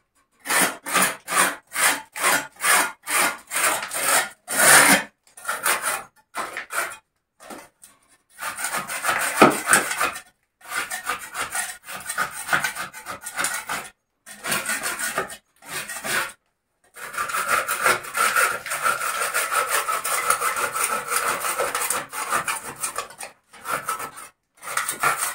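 Scraping a dirty wood surface by hand: a close, rasping rub repeated in quick regular strokes, then longer grinding passes broken by short pauses, with no talk.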